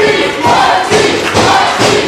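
Wrestling crowd at a six-man tag team match cheering and roaring in loud continuous waves, swelling in rhythmic surges with occasional thuds beneath.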